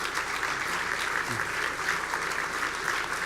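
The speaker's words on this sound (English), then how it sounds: "would you please stand up and take the applause?" An audience at an awards gala claps steadily for honorees asked to stand, a continuous, moderately loud wash of applause filling the room without any speech on top.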